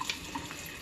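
Warm water poured from a cup into a pan for a vegan mustard bechamel sauce, a brief soft splashing trickle lasting under a second with no talking.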